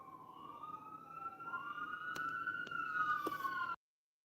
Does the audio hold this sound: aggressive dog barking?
no